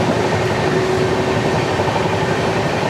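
The Humsafar Express between Gandhidham and Tirunelveli runs at high speed, heard from on board as a loud, continuous roar of wheels on rails with a steady rumble and hiss.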